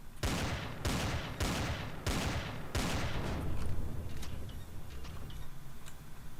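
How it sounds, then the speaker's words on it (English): Turret fire in the video game Empyrion: five sharp loud bursts at roughly even spacing, then a lingering rumble and faint scattered ticks as it fades. "I can hear a turret tracking in there."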